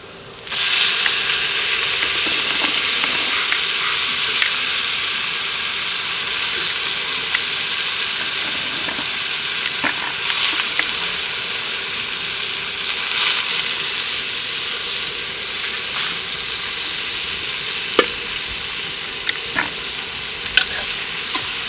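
Onions fry in a pan over a wood fire for a curry, giving a constant loud sizzle with occasional sharp scrapes and clinks as they are stirred.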